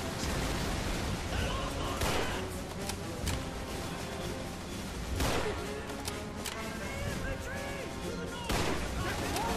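Gunfire crackles through a World War II battle in Call of Duty 3, with scattered shots and a few louder cracks standing out against steady combat noise and rumble at moderate volume.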